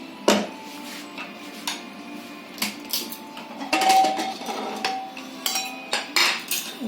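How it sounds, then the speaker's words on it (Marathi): A pressure cooker that has just cooked a vegetable dish is lifted off a kitchen stove, giving a string of sharp metallic clanks and clinks, with lighter knocks and rattles between them and no talking. "आता मी कुकर घेते खाली"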